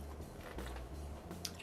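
Someone bites into crunchy asparagus and chews it close up, a short run of moist, crisp mastication sounds with a soft crunch near the end and no talking.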